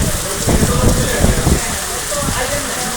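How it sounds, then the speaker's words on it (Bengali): Heavy rain pours steadily outdoors near a riverside crossing, a dense broadband wash of drops with rumbling low-end noise, loud and continuous throughout. "প্রচুর বৃষ্টি।"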